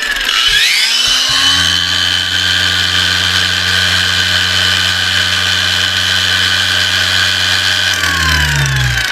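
A cordless ALLSOME PT037-N angle grinder spins up quickly and runs at its first speed with a steady, loud motor whine and a constant low hum, holding even for about eight seconds before starting to wind down.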